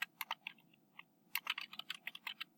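A name is typed on a computer keyboard in quick bursts of light key clicks with brief pauses, close and quiet, with no speech.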